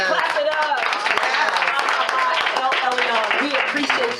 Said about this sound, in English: Y'all clap it up.